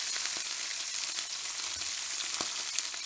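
Food browning in a hot cast iron pan, a close, steady crackling sizzle with scattered sharper pops throughout, no voices.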